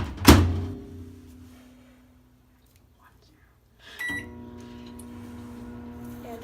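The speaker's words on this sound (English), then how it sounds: "We're going to put it in the microwave for 60 seconds." A microwave oven heating a homemade bit warmer for a minute: a door thunk up front, a steady low hum that fades toward near silence, then a second clunk as the oven starts again with a hum and faint high beeps.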